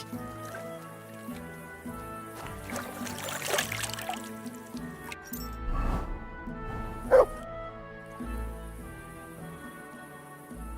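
A dog in the medieval Bohemian world of Kingdom Come: Deliverance 2 gives a few close barks and yips over soft game music, with faint speech.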